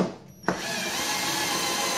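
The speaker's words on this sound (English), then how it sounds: "Do it with a lower brand homeowner grade impact drill." A homeowner-grade impact drill driving a screw: a sharp click, then a sustained close whirring drive with a rattling mechanical texture to the end.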